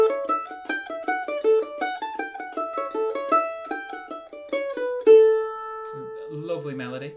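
Solo mandolin plays the opening four-bar phrase of the B part of Fisher's Hornpipe, a brisk run of plucked notes that ends on one sustained, ringing note; close and clear with no talking.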